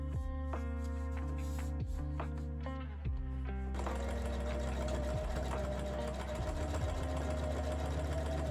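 A sewing machine runs in a steady series of stitching bursts, with a humming motor and a rapid mechanical needle clatter over a low background hum, while its bobbin runs out of thread.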